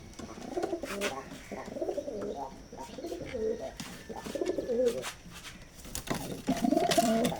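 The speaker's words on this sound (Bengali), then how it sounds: "এখন চলেন ওর কবুতরগুলো দেখা যাক" Pigeons cooing in a loft, low throaty coos repeating in uneven bursts close by, with a few faint chirps and scattered higher noises behind them.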